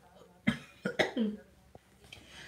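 A few short, sharp coughs close by, a quick burst of three or four with a fainter one after, in an otherwise quiet room.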